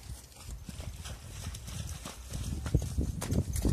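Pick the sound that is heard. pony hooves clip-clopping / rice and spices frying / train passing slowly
pony hooves clip-clopping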